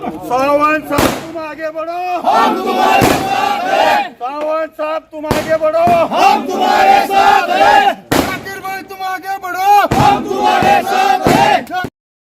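Shiv Sena Shinde faction party workers celebrate an unopposed street vendors' committee election win, shouting and chanting together loudly and close, broken by sharp bursts of firecrackers through most of the stretch.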